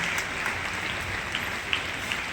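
An audience at an appreciation ceremony in Thoothukudi claps steadily in a dense, even wash of applause with a few sharper individual claps standing out.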